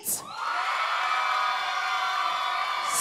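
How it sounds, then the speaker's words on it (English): A studio audience cheers and whoops loudly for a dance couple in a competition round, a sustained wash of shouting and applause that swells within a moment and holds steady throughout. "Only applause if you wanna stay, only applause."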